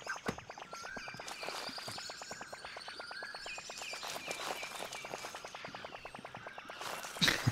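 Rapid, regular footsteps of a character walking in the Super Mario Odyssey video game, a steady run of light taps at close range lasting throughout, with faint chirping ambience behind and a brief louder burst at the end.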